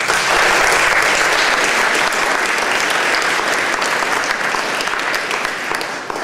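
A room full of people applauds council candidates at a 2017 Bellevue City Council forum held by the Bridle Trails Community Club. The clapping is dense and sustained and fades slightly toward the end.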